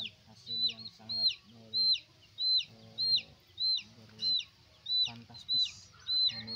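Chickens cluck in a steady repeating rhythm, each burst paired with a short high squeak, close by and fairly quiet.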